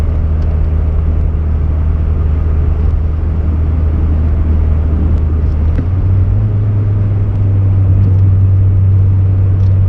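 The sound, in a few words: 1990 VW Corrado G60 driving with rattling exhaust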